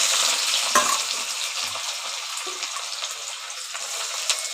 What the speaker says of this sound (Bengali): তেলে পেঁয়াজ কুচিগুলো দিয়ে দিচ্ছি।